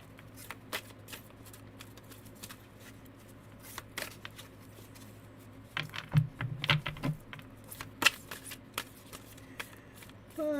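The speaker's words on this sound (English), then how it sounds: "These cards are hard to shuffle, so. But I can do it." Tarot cards being shuffled by hand, a series of soft riffling patters and clicks, quiet and close, with a denser burst of flicks toward the middle and no speech.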